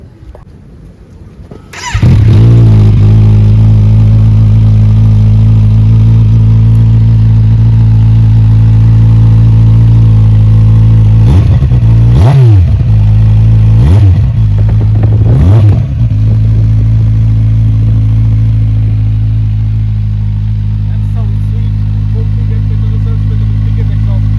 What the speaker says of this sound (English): let's listen to the exhaust, basically the sound of the motorcycle without the muffler